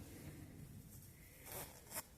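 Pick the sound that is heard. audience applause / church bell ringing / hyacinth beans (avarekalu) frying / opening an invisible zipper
opening an invisible zipper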